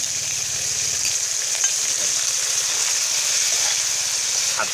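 Blanched giant catfish meat stir-fried for a spicy Thai pad cha, a steady close sizzle and crackle of frying with a faint low rumble throughout and no talking.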